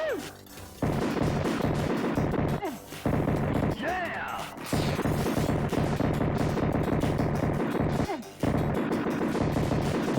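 Smash TV arcade action on an Astro City cabinet: dense, continuous gunfire and crashing grenade explosions over a busy game soundtrack, with a few brief drops and sweeping electronic tones between blasts.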